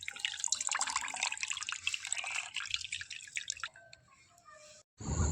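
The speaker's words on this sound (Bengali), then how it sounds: "এখনও জল বেরোচ্ছে প্রচুর পরিমাণে জল আছে এতে" Water drips and trickles steadily from soaked biuli dal being squeezed by hand, a close, busy patter of droplets that thins out toward the end before a louder splash.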